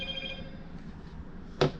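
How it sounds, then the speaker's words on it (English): A short phone notification chime sounds once near the end as a login code arrives, standing out sharply against a low steady background hum. "they sending me a code to my phone"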